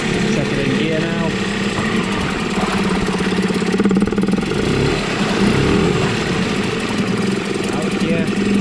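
A Yamaha Malta 3hp (6L5) outboard motor running after a service with a new water pump, a steady close buzzing putter with slight surges, a voice talking over it.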